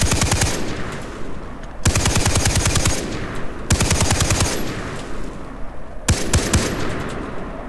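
Rapid automatic gunfire from Far Cry 3 while shooting at a shark underwater, loud sustained bursts with brief pauses between them, no talking over it.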